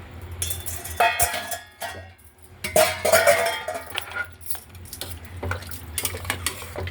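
Cooked dried mango pieces go into a pot with clinks and scrapes of a metal spoon against the vessel, in a few bursts over a low steady hum.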